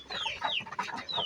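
Chickens cluck and squawk close by in a short, busy burst of overlapping calls.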